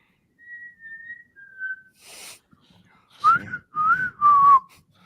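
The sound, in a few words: whistle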